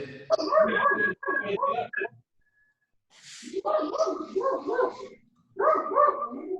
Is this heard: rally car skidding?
no